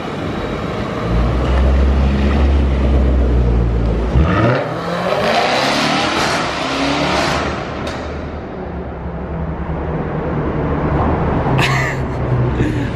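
A 600-horsepower Jaguar car approaches and passes loudly through a tunnel, its engine note rising to a booming roar that echoes off the walls, then fading as it drives away, with a sharp burst near the end.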